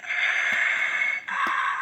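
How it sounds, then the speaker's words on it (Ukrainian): A steady hissing, rasping Darth Vader breath sound from a Star Wars pop-up book, with a brief break midway, then it resumes. Mechanical and continuous, close up, with no voices. "Дихання Дарта Вейдера."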